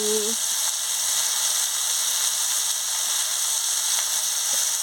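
Bitter gourd curry sautés in a pan with salt and turmeric, making a steady, bright sizzling hiss that holds evenly from start to finish, with no talking.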